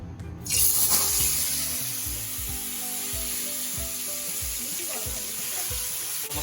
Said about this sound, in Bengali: অল্প তেলে ভালোভাবে ফ্রাই হবে। হ্যাঁ, আমি এখন দিয়ে দিচ্ছি।